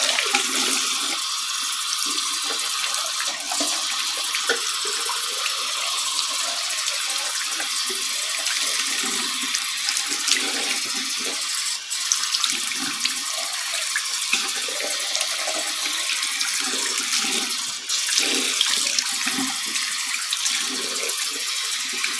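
A tap runs continuously while a doll's hair is shampooed, a steady close hiss of flowing water with faint splashing and small shifts as the hair is moved under the stream.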